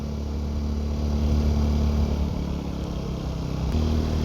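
A TVS Apache 200 4V motorcycle engine hums steadily while riding, a close, continuous low drone with slight swells in revs and no talking.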